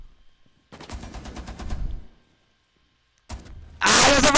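Gunfire in a shooter video game with a pistol: a rapid volley of sharp, close shots runs for about a second, then silence, then another loud burst of firing and a harsh, noisy blast at the end.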